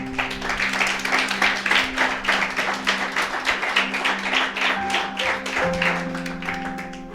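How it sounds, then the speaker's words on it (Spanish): Church congregation clapping for the Lord after a sermon, a dense, steady wash of many hands filling the room for several seconds, with a sustained organ or keyboard tone underneath that shifts pitch near the end. "Den un aplauso al Señor"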